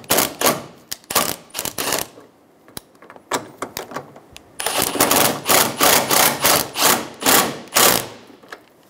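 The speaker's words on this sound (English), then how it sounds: "Install the 10 millimeter bolts in the top of the bumper." 10 mm bolts being driven into the top of the bumper of a 2011-2014 Hyundai Sonata, heard as loud, close bursts of rapid mechanical clatter from a ratcheting tool, with short pauses and a long steady run near the end.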